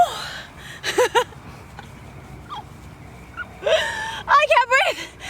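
Heavy, ragged breathing and gasps from a man catching his breath after an animal flow workout, close and loud in short bursts separated by quieter pauses.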